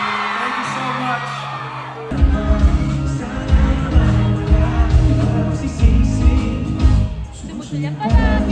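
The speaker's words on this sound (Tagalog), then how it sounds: "Ganito yung crowd na naririnig namin." A packed arena crowd at a concert in Saskatoon cheers, whoops and shouts. After a quieter opening of about two seconds, the roar swells to a loud, dense and sustained wall of sound with scattered yells.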